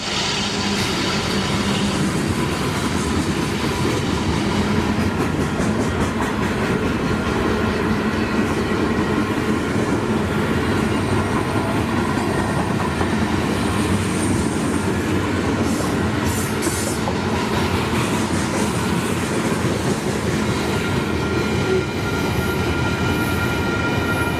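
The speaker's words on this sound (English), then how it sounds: "Here's an example of EMD's latest locomotive model as a DPU, the SD70 Ace-T4." A long freight train with an EMD SD70ACe-T4 locomotive running as a distributed power unit rolls steadily past at close range, a loud continuous roar of engine and wheels on rail with faint high squeals, and no voices.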